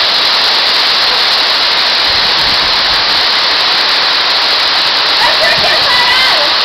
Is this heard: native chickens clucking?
no